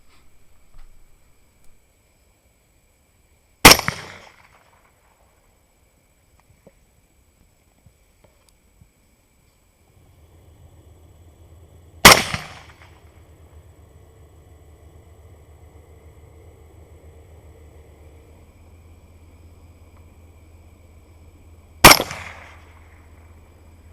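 A CMMG rifle in 22 Nosler fires three loud, sharp shots at wild hogs at night, spaced several seconds apart, with quiet gaps and a low engine hum between them.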